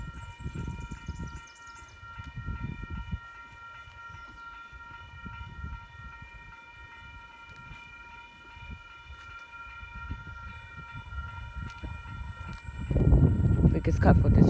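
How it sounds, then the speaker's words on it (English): An Oscar electric passenger train pulls into platform two at Wondabyne station, bound for Wyong. Its rumble builds gradually, with a steady high whine from the train and a loud rush of noise near the end as it arrives. "Now we've got an Oscar arriving in the platform number two for a Wyong service."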